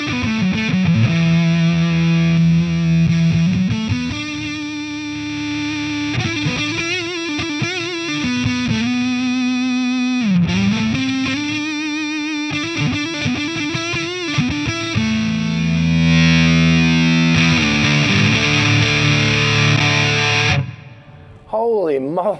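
Electric guitar with the neck pickup selected, played through a Keeley Super Rodent RAT-style distortion pedal, gives loud, thick, saturated chords and riffs that ring continuously for about twenty seconds before cutting off near the end.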